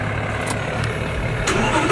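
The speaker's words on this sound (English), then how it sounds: "Time to start her up." An Audi R8 with a V10 engine and a full Capristo exhaust, heard idling with a loud, deep rumble close by, marked by a few brief sharp bursts over the continuous engine drone.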